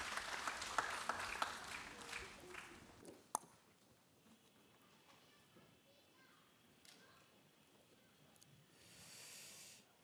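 A church congregation at a Friday prayer service applauds loudly for a few seconds before the clapping cuts off, leaving a quiet hall with faint murmurs and a brief swell of noise later.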